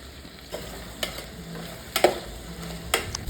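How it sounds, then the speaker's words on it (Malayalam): Shallots, onion, tomato, green chili, garlic and ginger stirred in hot oil in a pan for a mushroom masala, with a soft continuous sizzle and several distinct scraping strokes of a spoon against the pan. "എണ്ണ ചൂടാക്കി അതിലോട്ട് ചുവന്നുള്ളി, സവാള, തക്കാളി, പച്ചമുളക്, വെളുത്തുള്ളി, ഇഞ്ചി എല്ലാം കൂടി നല്ലപോലെ ഇട്ടൊന്ന് മിക്സ് ചെയ്യുക"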